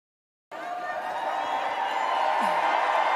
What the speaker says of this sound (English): The fans listened closely, clapping and cheering, because they knew he meant every word